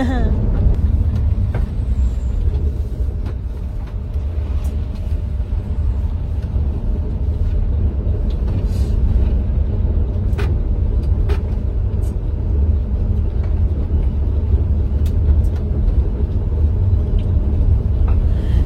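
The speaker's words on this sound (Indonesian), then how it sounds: "Seru juga ya duet bareng bis ini." An intercity electric bus on a Yogyakarta–Bekasi run rumbles steadily along the road, a loud continuous low drone heard close throughout with occasional faint clicks and rattles.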